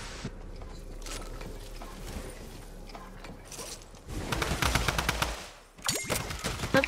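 Rapid automatic gunfire in Fortnite during a zombie fight, dense bursts of shots that grow louder near the end with a brief pause between volleys.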